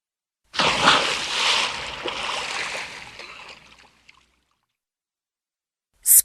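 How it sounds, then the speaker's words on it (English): A single burst of water splashing, loud at first, then churning and trailing off over a few seconds, heard alone with no voices. "Splash!"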